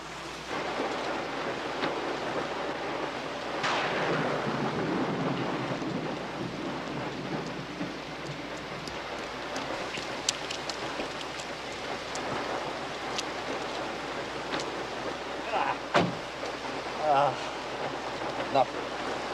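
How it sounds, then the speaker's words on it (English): Steady heavy rain pours throughout, with rumbles of thunder and a few sharp cracks near the end. "You don't like driving in heavy rain."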